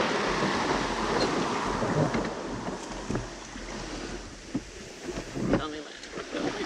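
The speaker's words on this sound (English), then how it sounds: "it was a great time to practice landing the dinghy through a bit of surf" Surf breaking along an open beach as a small dinghy is brought ashore through the waves, a steady wash with wind buffeting the microphone and brief louder splashes.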